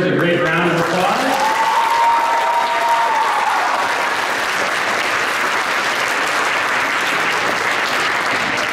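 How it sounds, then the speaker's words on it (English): An audience at a junior and senior science fair finalist awards ceremony gives specialty award winners a full round of applause, steady dense clapping after a brief voice at the start. "let's give these specialty award winners a great round of applause."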